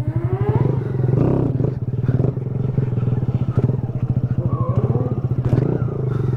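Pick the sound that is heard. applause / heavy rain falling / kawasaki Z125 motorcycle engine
kawasaki Z125 motorcycle engine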